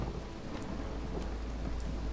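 Stormy weather in the Against the Storm video game, a steady low rumble of thunder with rain washing over it and a few brief crackling bursts, continuous and fairly distant, no voices.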